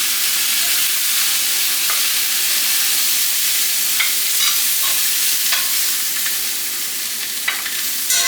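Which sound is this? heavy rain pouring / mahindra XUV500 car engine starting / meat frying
meat frying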